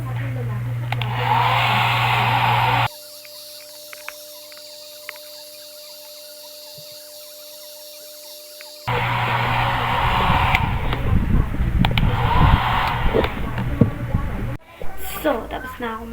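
A hair dryer blows with a loud, steady whir, cuts off for several seconds, then starts again and runs until it is switched off near the end, with a voice speaking over it.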